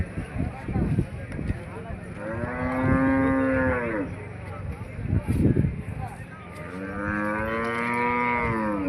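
Buffalo and Jawari and Jersey cattle low repeatedly nearby at a weekly livestock market in Gadag, long drawn-out moos rising and falling amid a busy crowd of voices in the background.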